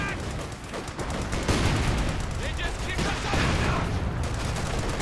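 Artillery barrage and battlefield gunfire in the Company of Heroes 2 video game, a dense, loud, continuous rumble of explosions and crackling shots in a 2v2 match, with a commentator's voice over it.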